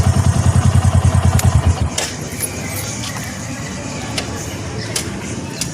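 A tricycle motorcycle engine chugs in rapid, loud, regular pulses close by for about two seconds, then the throbbing stops and a lower mechanical rumble and light clatter continue underneath.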